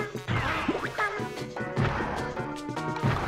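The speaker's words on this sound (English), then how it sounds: "Gotta smack these little plates off of his face." Sharp smacking crashes as plates are knocked off a boss's face in Yoshi's Crafted World, several distinct hits spaced over a few seconds against bright game music.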